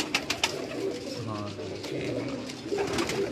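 Pigeons coo on a Karachi rooftop, with soft, rolling throaty calls repeating close by, alongside a few sharp taps and faint background murmur.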